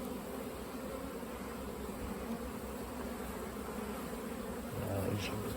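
Honey bees buzzing steadily and thickly throughout during spring honey harvesting, a dense continuous drone of many insects with a slightly louder swell near the end.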